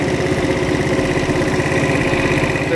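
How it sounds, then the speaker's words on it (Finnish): A scooter engine runs at full revs with its air filter box removed, a loud steady buzzing drone with rapid firing pulses, close by and without a break. "jos mä otan tämän pois, niin vähän aikaa nostaa kierrokset täysille"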